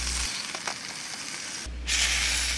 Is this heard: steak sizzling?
yes